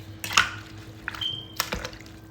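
Seasoning is stirred into water for oxtails in a pressure cooker, giving close, scattered splashes, drips and clinks in a few irregular bursts over a quiet room.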